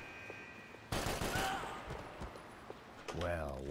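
A sudden rapid burst of gunfire in Max Payne 3, close and loud, trailing off over a couple of seconds, with a brief voice at the end.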